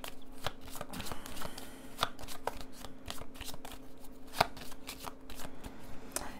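A deck of tarot cards being shuffled by hand, a steady run of soft riffling and slapping card sounds, close and fairly quiet, with no talking.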